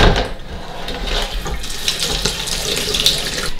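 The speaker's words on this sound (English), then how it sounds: "Then I'll rinse that dishmatic with some clean water" Running tap water pours into a sink as a dish brush is rinsed clean, a continuous loud splashing hiss with small bursts and gurgles as the brush moves through the stream, no voices.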